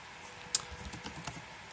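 Brief, light clicks of keys tapped on a computer keyboard while entering a command, a few faint, close keystrokes with one sharper click.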